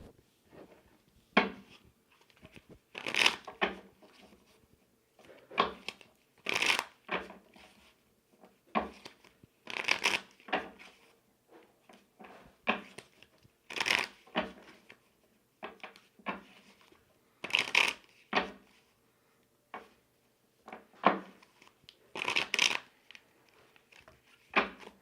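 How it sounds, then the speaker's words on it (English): Tarot cards are shuffled by hand at close range, giving about a dozen crisp riffling and slapping bursts spaced every couple of seconds, with quieter handling in between and no talking. "now I'm going to shuffle my tarot"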